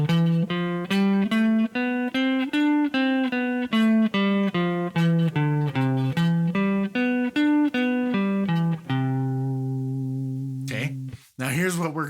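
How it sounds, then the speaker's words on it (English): Single guitar notes climb and descend a major scale in an even rhythm as a beginner warm-up exercise, then an arpeggio runs up and down, clear and close with no talking. "we're going to play up and down the major scale and then play the arpeggio up and down right after"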